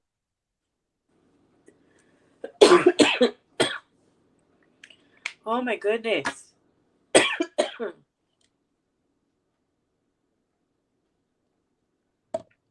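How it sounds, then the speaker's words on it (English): Several harsh coughing fits, close and sharp, with throat clearing and a brief spoken exclamation between them, surrounded by silence. "I don't know why you keep on coughing there"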